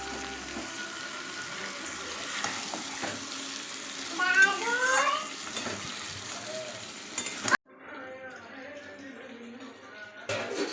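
Mutton fries in spice paste with steady close sizzling and scraping stirring throughout, then a sudden drop to a quieter, thinner sizzle near the end.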